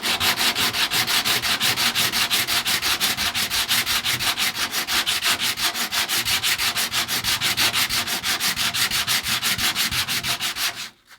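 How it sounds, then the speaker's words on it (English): Sandpaper rubbed by hand over wood fillets on a boat hull, a loud close steady back-and-forth rasp in an even fast rhythm that stops abruptly at the end, no talk. "Take your sandpaper and hit those high spots first."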